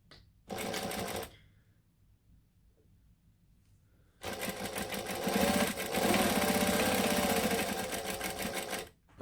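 A sewing machine stitches around the edge of a bowler bag in two runs, a short burst followed by a pause and then a longer, steady stretch of rapid mechanical whirring.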